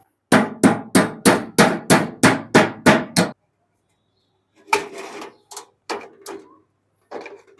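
Steel chisel hammered into a joint of scrap metal to pry it open: a quick run of about ten sharp, ringing metallic strikes, then a pause and several scattered louder clanks, close and without talk.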